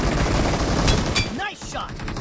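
Gunfire in an iPhone shooting video game, with a dense burst of rapid shots followed by a couple of sharper reports, loud against busy game sound and a voice speaking.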